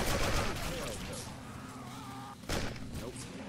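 Gunfire in Left 4 Dead 2 with a Silent Hill mod: bursts of rapid shots and loud cracks, with a sharp renewed burst near the end, while players talk over it.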